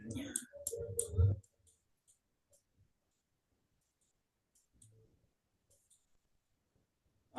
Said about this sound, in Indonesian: ini mengetik lagi